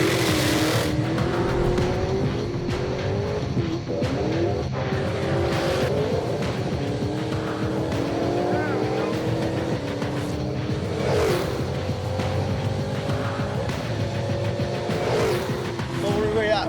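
A 2010 Camaro fitted with turbos, a supercharger and nitrous accelerates hard, a loud, continuous engine roar climbing through the gears from inside the car, with voices talking over it.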